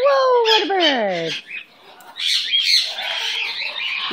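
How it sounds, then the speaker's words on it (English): A pet bird squawks and chirps up close: a burst of descending, harmonic squawks followed by a brief quiet, then a longer stretch of scratchy, chattering calls. "Whoa, what a bird."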